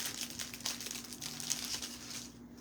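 Paper being cut for a handmade card, a steady crisp crinkling and snipping close by, alone without talk for a few seconds.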